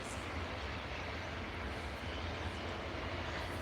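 A Ryanair airliner at Edinburgh Airport gives a steady, broad engine roar that holds even and fairly loud throughout, with no speech.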